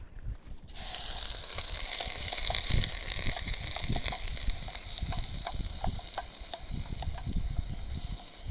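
Food sizzling and crackling in a hot pan at a campsite, a steady hiss with irregular pops and a few faint clinks.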